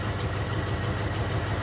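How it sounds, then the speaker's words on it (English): A 1975 Ford F100 truck engine idling close by with a slight misfire, a low steady rumble with an even throb and no voices. "engine idling now, finally. There's a bit of a miss there"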